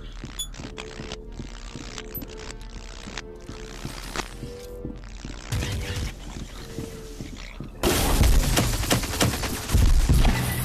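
Rifle gunfire in the VR shooter Solaris Offworld Combat, with rapid bursts of shots and loud, dense crackling blasts that swell in the later part against game background noise.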